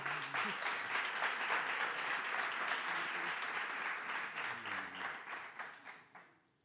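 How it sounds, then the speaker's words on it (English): Audience applause fills a presentation hall for Laura Tordera, head of R&D at Ferrovial Agroman, a steady dense clapping that holds for several seconds, carries faint murmuring underneath, and then fades out near the end. "Big applause for her"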